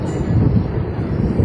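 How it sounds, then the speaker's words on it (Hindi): A DEMU diesel-electric multiple unit train running into Kerakat railway station on the Jaunpur–Aunrihar line, a loud, close, continuous rumble of wheels and engine. "डेमू है ट्रेन"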